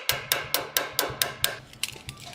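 A ball peen hammer peens a rivet to mushroom it during gauntlet assembly: about seven sharp, evenly spaced metallic strikes close by, then several quicker, lighter taps, with no talking.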